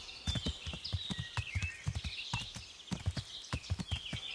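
Hooves of a horse clopping in the medieval game Kingdom Come: Deliverance, with brisk rhythmic footfalls close by and birds chirping faintly behind them.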